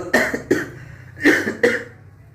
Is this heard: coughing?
yes